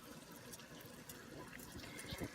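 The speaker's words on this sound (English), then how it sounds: "I gotta stir that" Melted glycerin soap mixture is stirred in a faint, steady liquid swishing that continues without a break, quiet and close.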